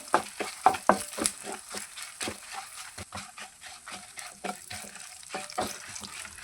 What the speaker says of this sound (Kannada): ಇವಾಗ ಇದನ್ನು ಚೆನ್ನಾಗಿ ನಾನು ಫ್ರೈ ಮಾಡ್ಕೊಳ್ತೀನಿ